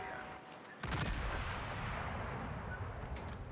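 A heavy boom of battleship gunfire in the game World of Warships, a deep sudden blast followed by a long rumbling roar that fades slowly, with faint speech underneath.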